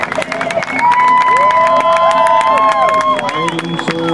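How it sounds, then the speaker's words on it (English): An outdoor crowd at an airshow cheers, whoops and claps as a parachute team lands, a loud continuous roar with shouting voices and whistles, and a voice speaking through it. "Bring them down to the ground with a round of applause."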